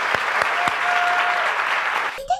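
Audience applause during a live Spanish-language stream, a dense sustained clapping wash that stops abruptly as a voice starts at the end.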